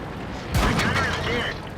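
An incoming artillery shell strikes in World of Tanks, with an ISU-152 tank in play: one heavy boom lands mid-clip, followed by a rumbling tail and thin whistling tones over steady battle noise.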